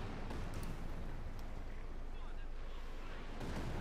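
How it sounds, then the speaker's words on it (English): Rocket artillery fire in Company of Heroes 2, a dense continuous roar of launches and rumbling blasts, loud and sustained for the whole stretch. "We got rocket fire on the way here."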